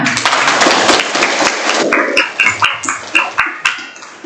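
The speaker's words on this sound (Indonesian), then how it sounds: "Ya, kasih tepuk tangan." A group of listeners in a classroom lesson applauds, loud and close at first, then the clapping thins into a few separate rhythmic claps that taper off.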